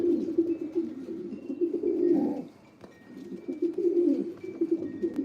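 Racing pigeons coo in soft, low, repeated throaty murmurs, close by and fairly steady, with faint rustling around them and no talking.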